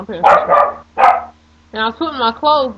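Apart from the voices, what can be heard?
dog barking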